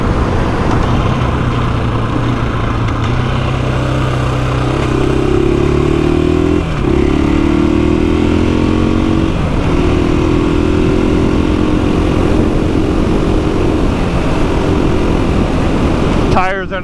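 A 2021 KTM 500 EXC single-cylinder 500cc dirt bike rides onto a highway, its engine droning loud and steady as it accelerates through rising pitch changes, with wind and road noise throughout.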